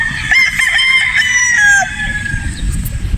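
A straight-combed Sweater Boston bloodline stag crows loudly and close, one drawn-out call tailing off, followed by softer clucking and yard noise.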